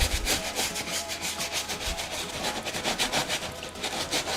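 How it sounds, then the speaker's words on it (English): A brush scrubs an Air Jordan 11 Concord sneaker with shoe cleaner in quick, rhythmic back-and-forth strokes, close and steady with a rasping, bristly texture. "Now get your brush and your shoe cleaner and start scrubbing."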